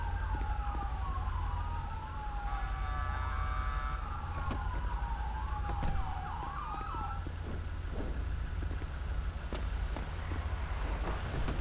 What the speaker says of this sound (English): I hear, yep, there's the ambulance